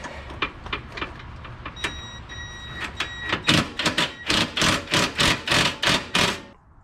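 An impact wrench drives three bolts on a wheel puller that pulls the flywheel of a BRP Can-Am Maverick X3. Short hammering bursts build into a loud, evenly spaced rapid rattle.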